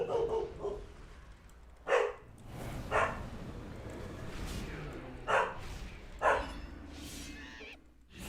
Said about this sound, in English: So I bought my dogs.